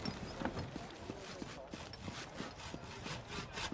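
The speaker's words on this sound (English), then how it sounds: "More sawing." Wood being sawn in a video game, quiet repeated back-and-forth strokes in a steady rhythm, mixed with faint background activity and soft talking.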